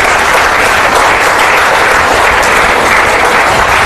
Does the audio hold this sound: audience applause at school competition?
yes